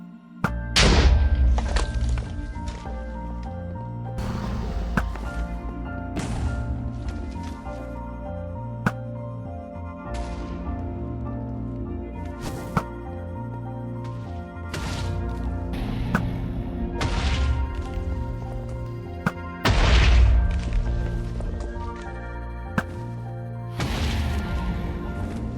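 Arrows striking targets in Minecraft, heard as a series of sharp thunks and thuds spaced irregularly over steady game music, loud and close, with no talking.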